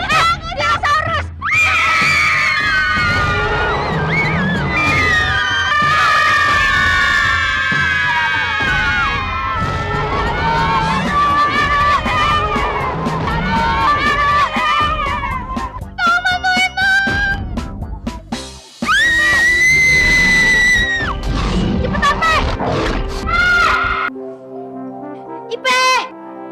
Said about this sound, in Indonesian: lo ngapain sih kok tidur teriak-teriakan begitu?